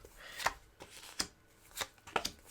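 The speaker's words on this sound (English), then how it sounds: "this player is going to do the same. Shuffle their cards." Playing cards being shuffled during a playthrough of the board game Ecosfera: Rewilding the World, prototype version; about five sharp, close riffling bursts at a steady rhythm with no talking.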